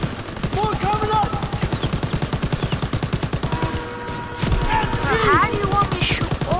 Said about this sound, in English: How do you want me to shoot all of these when this gun is overheating?